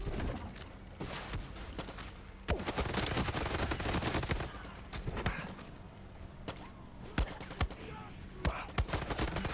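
Shotgun blasts from Far Cry 6's Vaas DLC, played on high difficulty: a string of loud, sharp reports spaced a second or two apart over a dense bed of combat noise.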